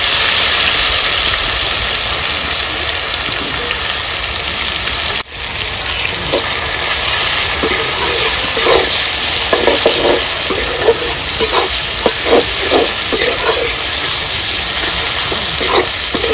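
Onion masala fries in melted mutton fat and oil in a village kitchen, a loud, constant sizzle close by. Scraping stirring strokes come in bursts partway through.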